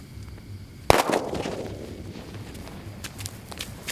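A Diwali firecracker bomb goes off with a single sharp, loud bang, followed by a decaying crackle and fizzing tail and scattered faint pops outdoors.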